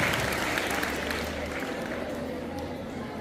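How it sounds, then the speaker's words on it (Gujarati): At a school prize-giving during a Republic Day celebration at a high school, the audience claps steadily, the applause fairly quiet and gradually fading over a few seconds. "ભાઈ તાળીઓનો ગળગળાટ વધવો જ જોઈએ"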